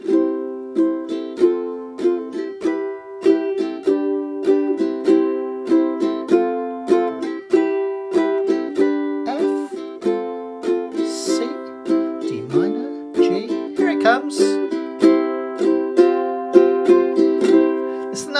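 Bright ukulele strumming in a steady rhythm with ringing, jangly chords including a suspended chord, a chorus progression played alone and close with clear, sustained harmonics.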